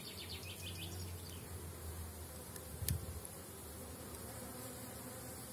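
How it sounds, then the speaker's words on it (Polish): Young honeybees making orientation flights in front of a hive during intensive brood rearing, a steady close buzzing drone with one louder pass as a bee flies near. "Bardzo ładnie się młoda pszczoła się oblatuje"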